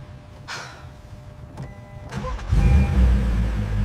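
A restored Lamborghini Urus: faint mechanical whirs and clicks first, then the engine catches and a deep, loud rumble takes over and holds steady for the final second and a half. No voices.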